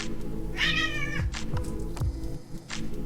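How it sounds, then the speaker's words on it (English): A house cat lets out a loud, drawn-out meow, then a few shorter yowls and thumps nearby, with no talking over it. "Those are never the noises I want to hear my cat make."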